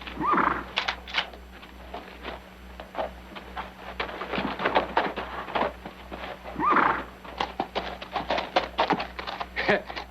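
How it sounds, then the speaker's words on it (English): A horse moves off with scattered clip-clop hoofbeats and thuds, and a couple of whinnies rise over the steps; the sounds are faint and somewhat distant, with intermittent voices. "Now you get on your horse and ride out."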